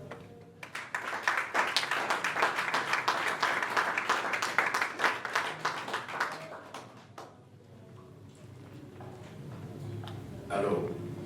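Audience applause for an author at a French-language book event, dense clapping that swells for about seven seconds, then fades into a murmuring room with brief faint voices.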